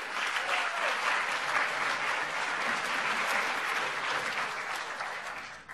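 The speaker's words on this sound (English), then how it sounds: "Can we get a quick round of applause for the Wolverine Crypto Trading team that's put over 100 hours in prepping?" An audience applauds the Wolverine Crypto Trading team at a crash-course event. Steady, dense clapping, moderately loud, carries on for several seconds before fading at the close.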